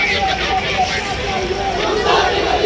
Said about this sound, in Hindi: ताजिया दफ्न करने जा रही भीड़ में नारा गूंज रहा है